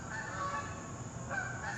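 Canada geese honk outdoors, a few faint, distant nasal calls over quiet open-air background.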